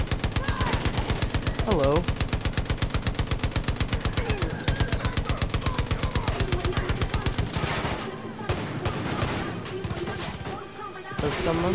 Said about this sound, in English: This is my machine gun now.